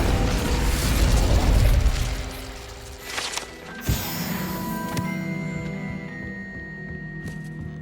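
Incendio fire spell cast in Hogwarts Legacy: a loud whooshing burst with a bright crackling onset, then a sharp pop and a lingering fiery hiss over game music and mechanical clicks.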